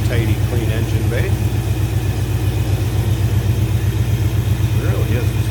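A 1957 Ford Fairlane Ranch Wagon engine idles smoothly and steadily up close, a loud, even low rumble with a regular pulsing beat, while someone talks over it.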